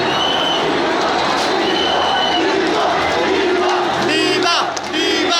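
A dense crowd of religious devotees at a procession roars and shouts continuously, loud and close, with voices overlapping into a steady clamor and occasional higher cheers rising above it.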